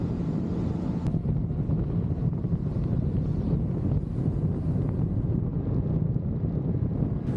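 Steady wind roar buffets the microphone on a Honda Goldwing motorcycle cruising on a hot, windy Texas highway, a constant low rumble that stays even throughout with no voices.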